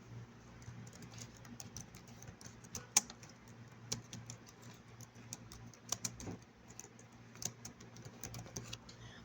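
Typing on a computer keyboard during a physics lecture on waves, faint, irregular clicking keystrokes in quick bursts and scattered taps over a low steady hum, with no talking.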